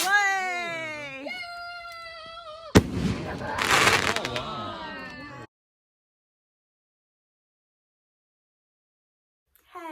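Fireworks going off at a Guy Fawkes bonfire night celebration: a sharp bang followed by a few seconds of loud crackling bursts. Excited voices and cries come just before the bang, and near silence follows.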